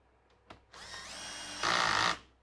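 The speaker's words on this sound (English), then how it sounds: "Now, I can drill the rest." A power drill whirs up to speed, then bites into wood with a louder grinding roar for about half a second before stopping, close up.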